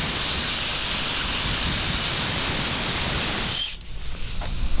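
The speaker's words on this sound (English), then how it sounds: "I usually keep some compressed air. I blow the sandpaper off." Compressed air blasting dust off a sanded surface during bodywork on a 1978 Chevy Impala Aerocoupe, a loud steady hiss held for over three seconds before it cuts off, leaving softer background noise.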